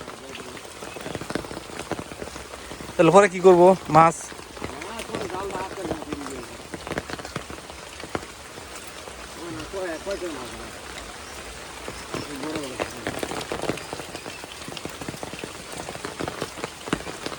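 A heavy downpour in Bangladesh roars in a dense, continuous wash, with people talking now and then over it.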